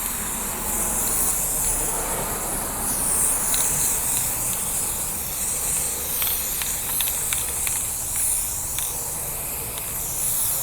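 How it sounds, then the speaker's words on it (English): Steady spray paint hisses continuously from a can onto a homemade Halloween trick-or-treat delivery chute, loud and close, with faint clicks and taps scattered through the spraying. "let me start spraying painting this thing"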